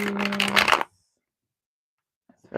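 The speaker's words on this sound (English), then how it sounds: "These cards is like hard to shuffle" A quick riffle of tarot cards being shuffled up close, then silence, followed by the start of another shuffle at the end.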